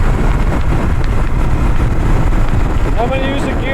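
A 1975 Honda CL360 Scrambler motorcycle engine riding at about 55 mph, a loud continuous roar buffeted by heavy wind noise, with a brief rising whine near the end.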